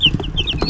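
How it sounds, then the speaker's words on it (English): Cornish cross meat chickens on a farm give quick, close, loud clucks, several short calls overlapping in under a second. "Those are the Cornish crosses. Those are the meat birds."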